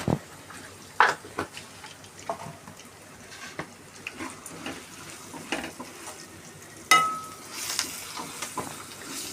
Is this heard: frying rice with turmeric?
yes